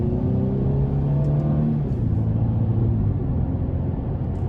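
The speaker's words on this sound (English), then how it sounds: "I'm gonna nail it in eco mode coming out of this corner" A 2017 Mercedes-Benz C300 Sport engine in eco mode rumbles steadily and climbs in pitch as it accelerates hard out of a corner, a sustained close drone with no voices.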